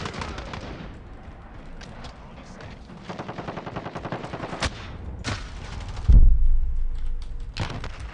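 Rapid bursts of video game gunfire crackle in uneven volleys, with one heavier blast standing out near the end over a steady background.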